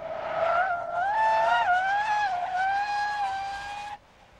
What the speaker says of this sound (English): On this first run, he will attempt a panic stop without the use of ABS